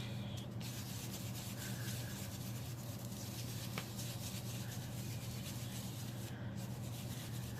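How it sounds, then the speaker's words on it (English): Paint is rubbed off an artist trading card by hand, giving a continuous, close, quiet scratchy rubbing with no talk. "I'm going to rub it off a little bit"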